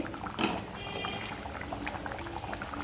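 Fish curry with drumsticks (murungakkai) gently simmering in a pot, a soft continuous bubbling with a brief louder burble near the start, steady and close with no talking.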